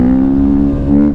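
A motorcycle engine revs hard under an aggressive throttle, holding a loud, steady buzzing drone close to the microphone for the whole moment with no talking.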